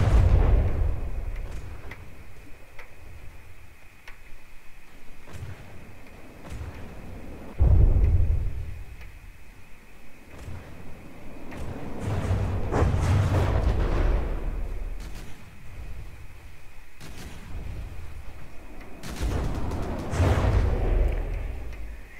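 Missile and torpedo explosions in the naval combat game From the Depths, heard as repeated deep booming blasts and rumbles, loud and spread across the stretch, with no talk.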